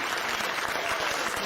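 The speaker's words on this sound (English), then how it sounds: "She's filling in with applause." Applause plays into a live stream, a dense patter of many clapping hands that holds steady and fairly loud for a brief stretch with no voices over it.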